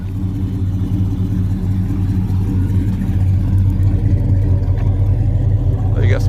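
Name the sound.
supercharged LT4 1970 Cutlass engine through Flowmaster exhaust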